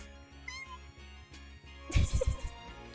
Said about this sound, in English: Great tuxedo cat, look!